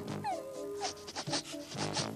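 A small dog whimpers and whines in short, high, wavering cries, close by, with a few breaks between them.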